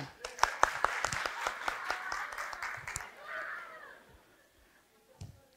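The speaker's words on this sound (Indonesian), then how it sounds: "Yang nggak percaya tepuk tangan." Church congregation clapping during a Christmas sermon: a burst of sharp, close individual claps mixed with scattered applause and crowd murmur, fading out after a few seconds, with a stray clap or two at the end.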